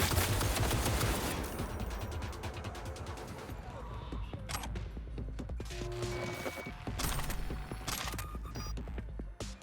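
Rapid automatic gunfire and scattered single shots ring out in the video game Cyberpunk 2077, with dense bursts over a busy backdrop of combat noise and mechanical clicks.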